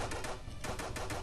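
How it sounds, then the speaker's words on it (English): Rapid bursts of automatic gunfire in the video game Ensign 1 fire continuously, loud and close, with repeated sharp cracks layered over a dense mechanical rumble. "Who's shooting at me?"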